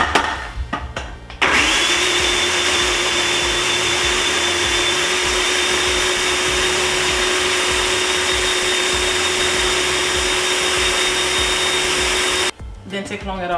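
A food processor whirs steadily and loudly for about eleven seconds as it blends malanga fritter batter with an unbeaten egg for Haitian akra, starting abruptly and cutting off near the end.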